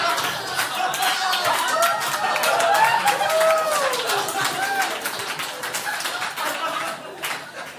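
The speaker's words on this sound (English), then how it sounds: "I don't know why you guys are clapping me." An audience clapping in a room, a dense patter of many hands that builds and then tapers off, with laughter and voices mixed in.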